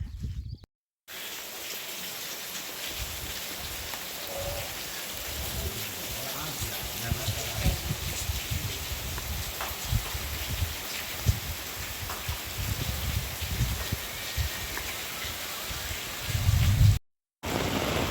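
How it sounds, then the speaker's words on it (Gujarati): Steady heavy rain falls continuously in a village with a broad hiss, occasional louder drops and low rumbles, with brief gaps of silence. "વરસાદ આવી ગયો છે અને મંડી ગયો છે દેવા"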